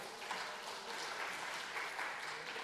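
A church congregation applauds during a sermon Q&A, steady broadband clapping filling the whole stretch at an even, moderately loud level with no gaps.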